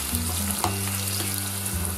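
Onions and chili pepper sizzle and crackle in hot oil in a frying pan, a steady close hiss with faint stirring underneath and no talking.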